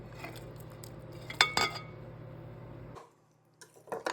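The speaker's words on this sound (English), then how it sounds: "we're going to put our meatballs right back in our pan" Meatballs dropped back into a pan holding peppers and onions, a few soft clatters and a sharp metal clank against the pan, then a brief quiet before more light knocks.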